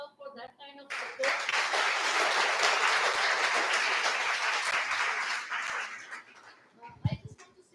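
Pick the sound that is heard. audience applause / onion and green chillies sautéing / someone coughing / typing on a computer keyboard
audience applause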